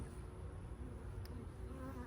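Bees buzz steadily around an opened beehive with a queen, a close, continuous droning hum with no talking.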